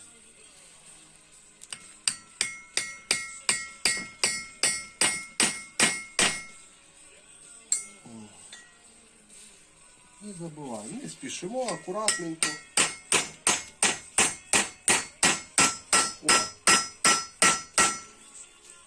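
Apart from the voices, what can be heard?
hammer tapping valve stem seal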